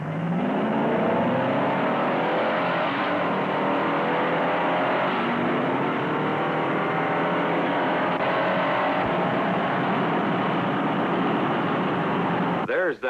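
A Ford Galaxie and a Chevrolet Impala race and accelerate side by side in a vintage car commercial, their engines a continuous loud roar with rising pitch sweeps as they pull away, with a narrator speaking over them.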